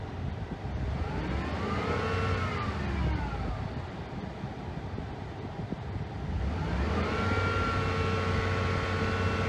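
A Ford F150 pickup engine revs up to around 4000 RPM with the high-speed cooling fans running, rising twice in pitch with a steady roar and whirring fan underneath, moderately close, no speech.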